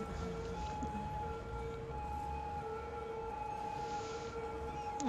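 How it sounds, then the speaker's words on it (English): An ambulance siren sounds steadily from a city street, a continuous wailing tone held throughout with traffic rumble underneath and no talking. "Day in the life of an ambulance."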